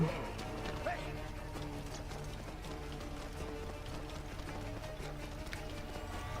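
Soft, steady hoof plods of a camel walking in Assassin's Creed Origins, a continuous rhythmic clip-clop under game music and ambience, quiet and even throughout.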